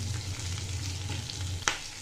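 Onions sizzle in a pan as they fry to light pink, a steady close crackle with a low hum beneath and one brief clatter near the end.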